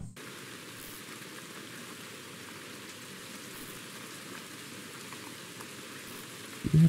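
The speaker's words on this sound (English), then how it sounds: "I do think that rain is ideal" Steady rain falls in the Ultimate Fishing Simulator video game at Moraine Lake, a continuous even hiss of drops on water and surfaces. It holds at the same level throughout, with no talk.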